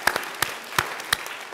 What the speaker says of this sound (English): Let's give her a round of applause and welcome her back as well.